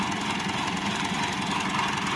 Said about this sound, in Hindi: ये जी जो ट्रैक्टर से स्प्रे होती है बूम के जरिए